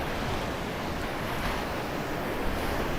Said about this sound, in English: These waves have been wild this week